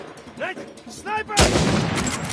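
A sniper shot rings out in the video game Uncharted 4, a sudden loud blast with a long ringing tail that follows brief shouted game dialogue.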